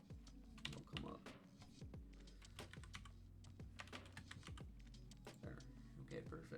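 Rapid clattering keystrokes on a computer keyboard, close and continuous in uneven bursts while someone looks up a team for a competitive Pokémon battle, with a voice talking faintly at times.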